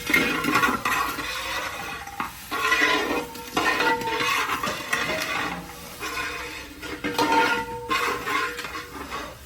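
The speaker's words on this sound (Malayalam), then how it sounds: "സേമിയൊക്കെ നല്ല ചെറുതായി പൊട്ടിച്ച് വെച്ചിട്ടുണ്ട് അപ്പോൾ നമ്മൾ ഇനി അതിലോട്ടിട്ട് നല്ലപോലെ ഒന്ന് വറുത്തെടുക്കണം" Metal scraping and clinking of a spatula stirring broken vermicelli as it dry-roasts in a pan, steady and close, with occasional louder scrapes.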